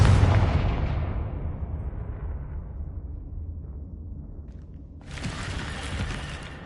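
A Confringo blasting spell explodes in a video game with a loud, close blast. The boom decays into a long low rumble, and a second, softer rushing burst follows near the end.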